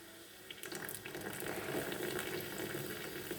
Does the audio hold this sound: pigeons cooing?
no